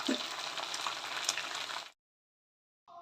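Boneless chicken fries in a pan with a steady, loud sizzle and crackle for about two seconds, then cuts to silence before a brief return of sizzling.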